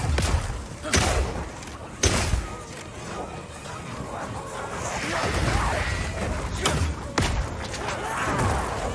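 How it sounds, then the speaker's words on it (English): Oil grenades fired in Path of Exile 2, heard as several thudding launches and impacts spaced a second or so apart over a busy rumbling game soundscape. "Firing one of these grenades coats the ground and nearby enemies in oil."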